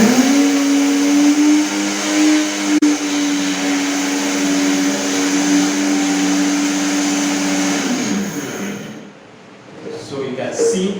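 A Silvercrest blender grinds dry corn into powder, a loud steady high-pitched motor whine with grinding rattle that runs continuously for about eight seconds, then winds down and stops near the end.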